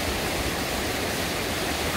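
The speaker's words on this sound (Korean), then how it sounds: "저기 용추폭포에는 물길이 두 곳으로 나옵니다" Water rushes steadily down the Yongchu waterfall in the Gapyeong valley, a dense, even roar of flow with no pauses, heard alone at moderate volume.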